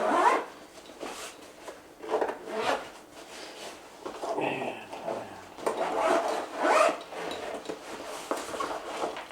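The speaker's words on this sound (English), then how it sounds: "So I'm going to go ahead and unzip it." A Kelty Camp Galley Deluxe kitchen organizer being unzipped in several drawn-out zipper pulls, close and moderately loud, with light clinking of utensils and gear inside.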